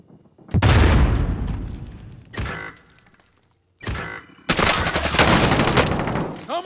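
Frag grenade explosions and bursts of gunfire in Call of Duty: Modern Warfare, with several loud, close booming blasts separated by short gaps, then a sustained roaring stretch of rapid shots and rumble.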